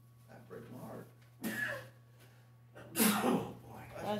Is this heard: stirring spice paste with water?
no